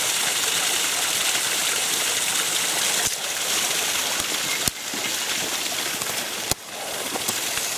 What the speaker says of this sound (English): Waterfall on abandoned wasabi terrace.